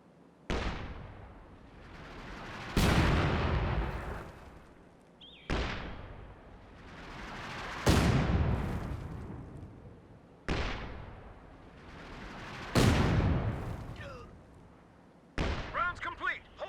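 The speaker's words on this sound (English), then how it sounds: "here's an unvetted Scot barrage at close to max range" Artillery barrage from an M8 Scott in the strategy game Company of Heroes 2, a series of heavy booming shell impacts about every two and a half seconds, each ringing out and decaying, with bits of game voice near the end.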